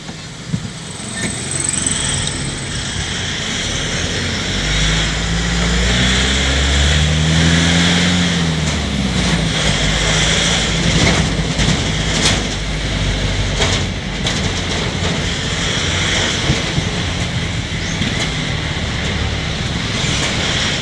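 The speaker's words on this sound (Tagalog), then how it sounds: "malakas pa rin yung dump truck" A dump truck engine runs loudly and steadily on a narrow road, with a constant heavy low rumble and clattering mechanical noise that shifts in pitch midway and persists throughout.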